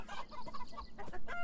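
Chickens cluck in the video game Beyond Eyes, a soft run of short, clipped clucks and murmuring calls that rise and fall continuously at a low, close level.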